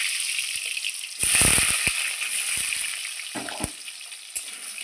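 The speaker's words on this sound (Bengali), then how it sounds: "ওই কড়াইয়ে আমি দিয়ে দিচ্ছি সরষের তেল। আলুটা ভেজে নেব।" Potatoes frying in mustard oil in a wok, a steady hiss of sizzling broken by a louder burst of spattering and a few sharp crackles and scraping stirs.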